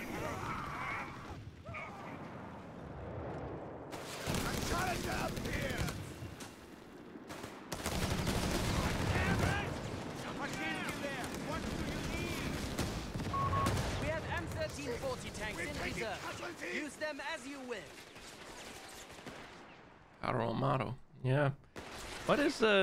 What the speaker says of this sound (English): there are two heavy machine guns on the field